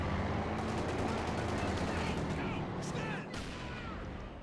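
Machine gun fire in the strategy game Company of Heroes 2, rapid rhythmic bursts of shots rattling steadily for several seconds amid battlefield noise, easing off toward the end.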